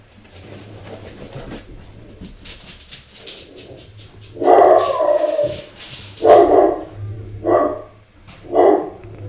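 Dogs at home barking at a passing trash collector, a few short loud bursts of barking close by, each followed by a pause, over a low steady hum.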